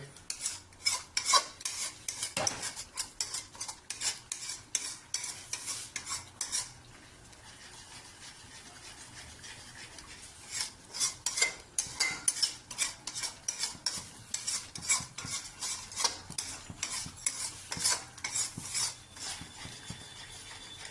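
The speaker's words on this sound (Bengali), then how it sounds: "আলু ভাজা হচ্ছে, মশলাও কষানো হচ্ছে।" Potatoes and spices sauté in a pan with peanuts for a potato dum, heard as repeated scraping and clinking of a spoon stirring against the pot, with a brief quieter stretch midway and faint frying underneath.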